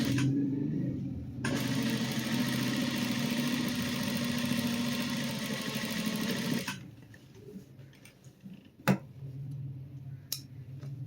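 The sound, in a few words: sewing machine stitching cufflinks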